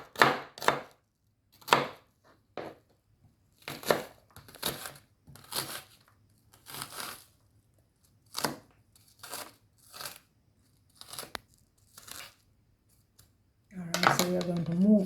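Knife chopping through seasoned oxtail pieces on a cutting board, a series of sharp, close chops in irregular bursts with pauses between, ending in a louder clattering handling sound.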